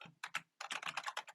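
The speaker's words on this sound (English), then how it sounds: "When I start typing" Fingers type on a computer keyboard while filling in fields of an account sign-up form: quiet, quick clusters of keystrokes, a short pause, then a longer steady burst of clicking.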